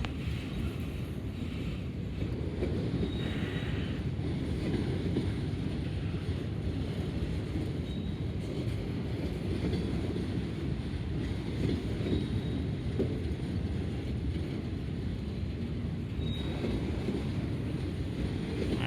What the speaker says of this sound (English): So they actually had to pull back until this train gets by.